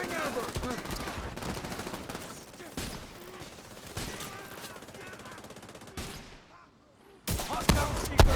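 Gunfire in The Division 2, with dense rapid bursts of shots and impacts nearly nonstop, a brief lull, then louder renewed firing at the end, mixed with game voices calling out.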